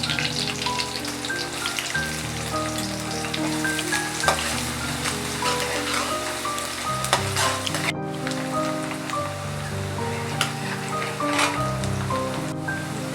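Chopped onion frying in a pan gives a continuous crackling sizzle with occasional stirring, heard over background music for the full stretch.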